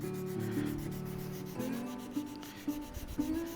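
Hand sanding of wooden knife handle scales for a bushcraft knife with 400-grit sandpaper, steady back-and-forth rubbing strokes, close and clear, with a few brief scrapes toward the end.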